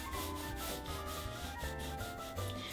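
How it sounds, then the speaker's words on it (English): Quiet, rhythmic scratching strokes come from drawing a cartoon spanner on paper, a string of short rubbing passes close up with no talking. "on the ends of the rectangle we draw a circle and then another circle there"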